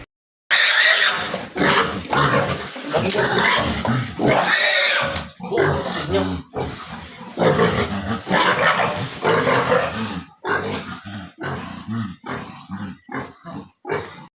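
A pig being loaded for transport grunts and squeals loudly in close, repeated bursts, struggling throughout, with scuffling and clattering noises among the calls.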